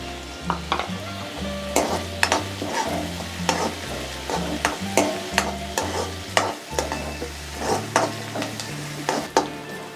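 Onions and green chilies fry in a pan, steady sizzling under repeated stirring scrapes and clinks at a brisk, uneven rhythm, close and fairly loud with no talk.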